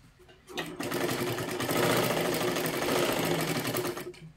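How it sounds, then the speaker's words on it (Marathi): A sewing machine stitches a side seam of a princess-style blouse up to the waist, running in one steady, close, continuous whirring burst of rapid needle strokes for about three and a half seconds before stopping. "अशा पद्धतीने पूर्ण कमरेपर्यंत एक शिलाई मारून घ्यायची आहे"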